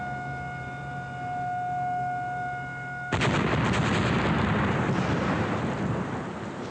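A steady tonal hum gives way to a sudden loud construction blast at the Three Gorges Dam, followed by sustained rumbling and roaring debris noise that continues to the end.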